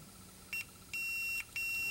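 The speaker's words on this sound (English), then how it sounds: "It beeped just there for a second." Multimeter continuity beeper on a Porsche 914 fuel injection circuit, sounding as the engine is bumped over: a short tone, then a longer steady beep, then another starting near the end, clear and close with a faint low hum beneath.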